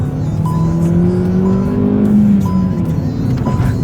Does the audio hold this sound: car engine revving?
yes